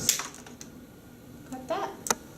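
A wire stripper's cutting jaws snip through a length of wire, giving a few sharp, close clicks and a crisp snap near the end, with quiet room tone between.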